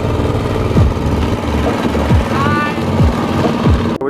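Motorbikes riding along a road on Don Det island in Laos, a steady loud engine drone with revving and gear shifts, passing close with a constant rumble.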